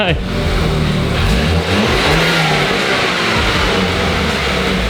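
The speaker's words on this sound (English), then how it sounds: "I could fully have a conversation with you while you're revving it" A BMW 328i engine revs with a low, smooth, fairly quiet drone, swelling and settling under the car's cabin acoustics, continuous throughout with no speech over it.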